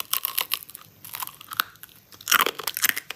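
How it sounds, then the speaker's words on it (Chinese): Homemade candied hawthorn tanghulu is bitten and chewed, giving sharp, brittle crunches in close bursts followed by wet chewing, with no talking. "嘎嘣脆， 这个糖真像外面买的那种嘎嘎脆了"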